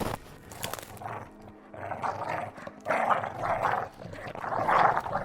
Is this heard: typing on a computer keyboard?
no